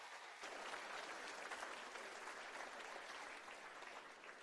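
Church congregation applauding during a worship service at Cathedral of Praise in Manila, Philippines, a steady sustained wash of many hands clapping at a distance, fairly faint, with no speech over it.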